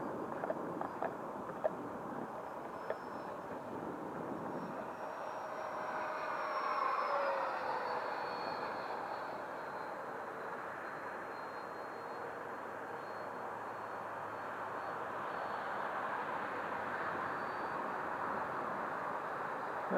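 A Freewing F-18 90mm ducted-fan RC jet flies on a test flight, making a steady rushing whoosh with a thin whine that swells as it passes closer mid-flight, then fades and returns.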